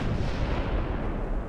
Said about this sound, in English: There's another torpedo hit on a destroyer